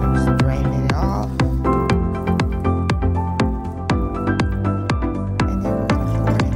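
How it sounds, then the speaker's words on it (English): Homemade rosemary water is drained off into a container, producing a close, steady stream of bubbly gurgling drips and glugs that repeat in a quick rhythm, heard alone. "transport it into a container. So just drain it off"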